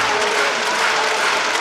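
Leopards fans fill a basketball arena with a dense, loud roar of crowd noise that sounds like steady clapping and massed voices, continuous and even in level.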